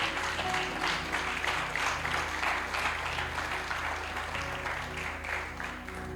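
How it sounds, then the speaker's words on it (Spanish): A church congregation claps in a steady, fairly loud burst of applause that rolls on for several seconds with little talk over it. "Denle un fuerte aplauso al Señor."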